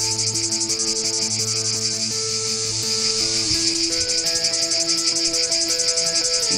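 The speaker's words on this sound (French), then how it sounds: "L'étang tombe peu à peu dans une somnolence où seul le chant des cigales domine." Cicadas sing by a pond in summer heat, a dense, continuous high buzzing drone that holds steady throughout, with sustained musical tones running underneath.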